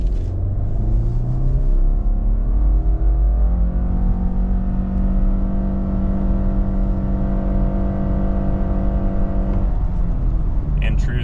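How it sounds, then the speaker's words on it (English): A 2023 Subaru Outback base with a CVT accelerates hard from a brake-rev launch toward 60 mph at 2,500 feet altitude, its engine droning steadily as the tone rises and holds, heard from inside the cabin. "We're gonna brake rev the CVT, and we're gonna see what it can do."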